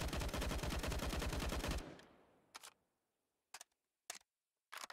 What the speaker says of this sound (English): Bit of a warning shot fired.